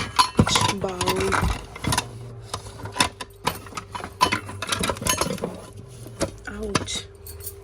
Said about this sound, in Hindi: बाकी इसमें भी छोटे छोटे सारे बर्तन हैं